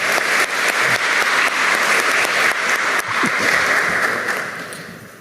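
Strong, sustained applause from a ceremony audience honoring a retired Peruvian National Police non-commissioned officer, many hands clapping close and loud, then tapering off toward the end.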